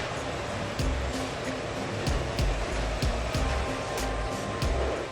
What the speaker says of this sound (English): The tub grinder is a hungry machine.